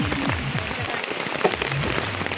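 Rain falls steadily on a goat farm, a continuous close hiss of drops spattering on surfaces with no clear breaks across the short stretch.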